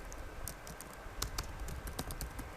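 Fairly quiet keyboard typing at a computer, a loose run of key clicks with a few sharper taps, close and alone against faint background noise.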